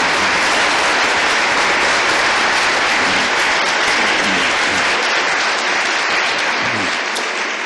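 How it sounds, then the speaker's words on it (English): Steady, dense applause from a community meeting audience in Ingomar, welcoming the Postmaster General, sustained and loud throughout before tapering slightly at the end. "Let's give him a round of applause."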